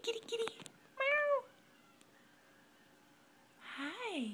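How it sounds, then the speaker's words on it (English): A cat gives a couple of clear, close meows with a pause of near-silence between them, plus a brief burst of noise at the start. "Come here, kitty, kitty, kitty. Meow."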